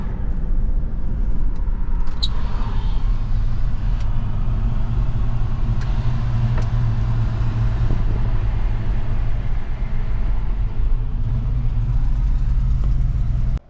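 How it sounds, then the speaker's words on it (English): A Chevy C20 truck just out of two years in storage drives along, its engine a steady loud low rumble from inside the cab with road noise and a few small rattles, no talking. "Driving it home after 2 years."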